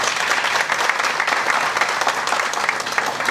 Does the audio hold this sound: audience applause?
yes